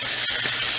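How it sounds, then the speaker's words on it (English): Onions and ground beef hiss and sizzle in a hot pan, a loud, steady, close crackling spray of frying with no break. "Just get the onions in there and the ground beef."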